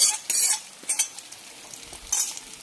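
Roasted coconut poured into a Kannur-style koottukari curry, sizzling as a spoon scrapes and stirs in short bursts, three louder strokes over a soft steady hiss.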